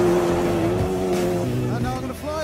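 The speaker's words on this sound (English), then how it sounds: "I've only got a 2-litre engine. However, it's a Ford EcoBoost, so it's turbocharged" Dune buggy with a tuned, turbocharged 2-litre Ford EcoBoost engine racing off-road: loud, close engine drone with shifting revs and rising pitch as it accelerates, with a voice talking over it.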